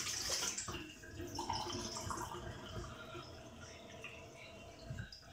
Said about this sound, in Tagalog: Lagyan natin ng preskong tubig ulit.